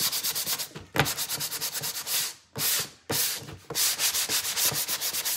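Coarse 50-60 grit sandpaper scrubs across wood in rapid back-and-forth strokes, loud and close, with a rhythmic rasping pattern broken by a few brief pauses; no voices.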